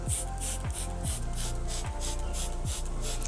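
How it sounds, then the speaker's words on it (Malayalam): Diluted cow urine is sprayed onto spinach plants from a hand sprayer, giving a quick series of close, regular hissing bursts over a steady low background drone. "ഞാനിത് ചീരകൾക്ക് സ്പ്രേ ചെയ്ത് കൊടുക്കുകയാണ്."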